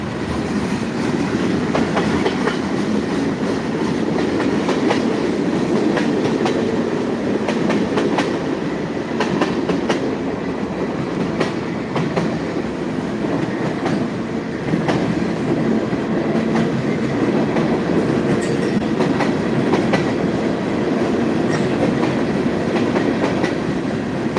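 A graffiti-covered freight train rolls steadily past close by, a continuous loud rumble with rhythmic clickety-clack of wheels over rail joints, no talking.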